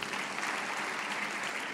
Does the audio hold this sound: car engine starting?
no